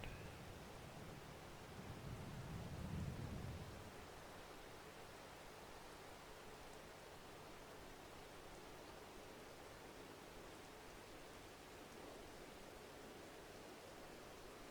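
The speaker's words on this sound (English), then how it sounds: "At least we can get something done in the rain." Steady soft hiss of video game rainfall in Farming Simulator 22 continues throughout, even and unbroken, with a low rumble swelling briefly near the start.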